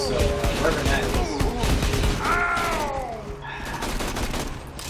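Rapid gunfire from a weapon in the video game Borderlands 2, dense bursts of shots with chatter under game music and effects, fairly loud and continuous.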